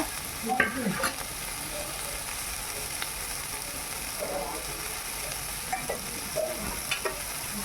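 A spice paste of ground cumin, coriander and dried red chili fries in a pan with a little water, a continuous hiss with sparse spoon scrapes and clacks near the start and end, close and moderate.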